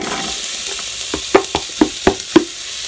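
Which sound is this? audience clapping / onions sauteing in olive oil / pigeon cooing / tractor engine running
onions sauteing in olive oil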